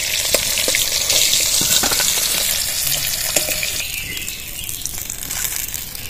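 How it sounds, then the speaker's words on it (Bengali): Rui fish pieces fry in hot oil in a pan, giving a loud, steady sizzle with crackling throughout and occasional scraping as the fish is turned. "এরকম কড়া করে লাল লাল করে ভেজে নিয়েছি মাছগুলো"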